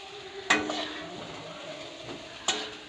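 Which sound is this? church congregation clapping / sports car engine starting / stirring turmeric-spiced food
stirring turmeric-spiced food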